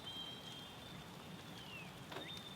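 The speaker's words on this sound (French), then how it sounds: "Il y avait ce jour-là une énorme pluie sur Vroomville." Heavy rain pours over Vroomville in the Robocar Poli cartoon, a steady faint hiss of falling water with a thin electronic tone running through it and no voices.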